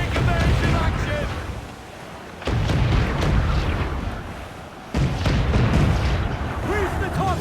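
Booming ship cannon volleys from a sailing warship in Assassin's Creed Black Flag, heavy blasts landing around the 2.5 and 5 second marks over constant wind and sea noise, with game crew voices shouting.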